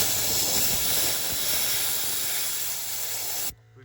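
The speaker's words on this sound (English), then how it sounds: "I'll blow some air through from the clean side," Compressed air blasts through the AC condenser of a 2011 Ram 3500 as a loud, close, steady hiss that runs for several seconds and then cuts off abruptly.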